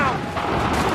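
Gunfire in Assassin's Creed 3 as shots crack out in a quick burst, loud and close, mixed with shouting voices in a battle scene.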